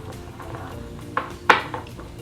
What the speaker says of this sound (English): I'm going to take a little whisk here and mix this around.